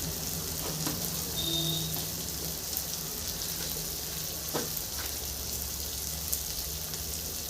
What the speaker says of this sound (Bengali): এগুলো একটু ভালো করে ভেজে নিই যাতে কাঁচা গন্ধগুলো বেরিয়ে যায়